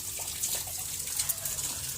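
Weak shower spray running beside a home swimming pool, a steady soft hiss of falling water with faint splashes, continuous and fairly close.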